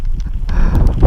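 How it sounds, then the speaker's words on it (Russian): Gusty wind with wet snow and rain buffets the microphone with low rumbling thumps and rustling, a rough, blustery noise close to the mic. "Снег с дождем. И с ветром."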